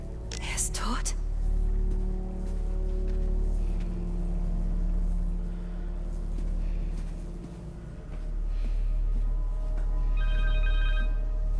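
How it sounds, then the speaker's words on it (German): A telephone rings in the PS5 game Marvel's Spider-Man 2, its tonal ring sitting among steady harmonic game music and low ambience, with a brief whoosh near the start; no one speaks over it. "Telefon!"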